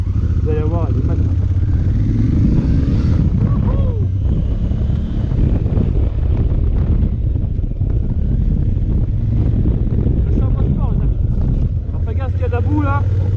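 A 2016 Honda Africa Twin motorcycle rides in sport mode on a damp road, its engine droning continuously under heavy wind buffeting, with a voice talking over it.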